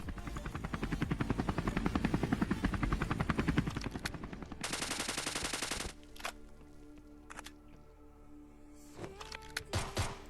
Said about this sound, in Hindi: हेलीकॉप्टर लेके उस वाले बंदे को फिनिश करने के लिए जाता हूँ